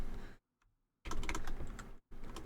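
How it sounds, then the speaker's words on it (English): Quick keystrokes clatter on a small computer keyboard in two dense bursts split by a brief silence, close and fairly crisp, with no talking. "Cannot type on this keyboard."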